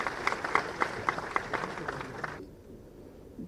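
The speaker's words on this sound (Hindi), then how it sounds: "आइए हम सब तालियों की करतल ध्वनि के साथ उनका स्वागत करें।" An audience at an institute's foundation day ceremony applauds to welcome the chief minister, with steady rhythmic clapping from a moderate crowd that cuts off abruptly to near silence.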